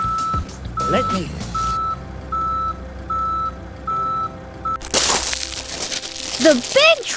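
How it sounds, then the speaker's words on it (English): A large truck sounds a steady run of reversing beeps, then a loud rush and crunch of gravel being dumped, with a voice speaking over the noise. "The big truck dumps gravel into the hole to fill the road."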